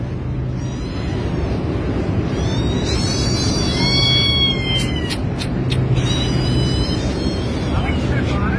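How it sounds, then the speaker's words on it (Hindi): A trapped cat meows repeatedly with rising, wavering cries over constant loud background noise, while people talk nearby. "इधर बिल्ली फंस गया है वो निकालना है बाहर आ जाओ"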